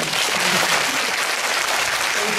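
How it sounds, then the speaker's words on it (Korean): Steady, dense applause from a film screening audience at the Busan International Film Festival, a continuous wash of many hands clapping at once with no break. "어쨌든 박수 한번 부탁드려요"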